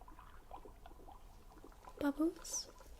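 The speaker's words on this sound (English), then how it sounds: "Bubbles." Quiet bubbling water gurgles steadily, then a person speaks briefly over it near the end.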